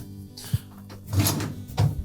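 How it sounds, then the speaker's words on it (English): A GE dishwasher door is pulled open during a spray arm repair: a sharp clunk, a short scraping slide, then another soft thump near the end, close and fairly quiet. "So we'll open the door up."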